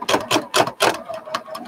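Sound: sewing machine running slowly, driven by foot pedal

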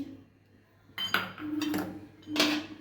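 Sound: spooning gram flour (besan) into vegetables for pakora

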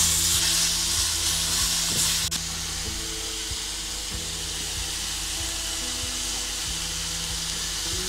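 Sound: courgettes frying in a pan

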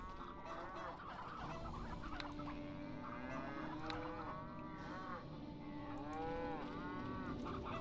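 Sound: cows mooing in the video game Neverwinter Nights

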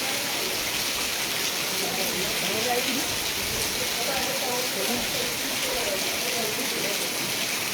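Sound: heavy monsoon rain downpour

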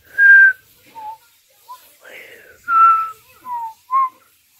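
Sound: person whistling

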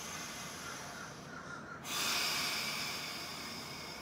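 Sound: deep breathing during a pelvic floor exercise

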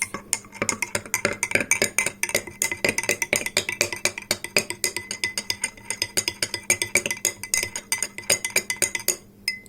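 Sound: spoon stirring iced coffee in a glass

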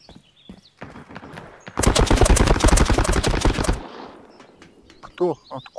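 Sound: gunfire in a VR battle royale video game

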